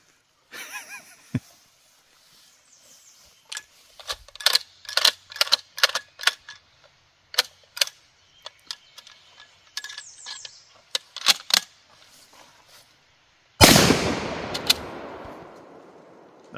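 A Mossberg bolt-action shotgun, 20 or 16 gauge, worked repeatedly: a series of sharp metallic clicks and clacks of the bolt and ejected shells, then one loud close shot that rings out at the end.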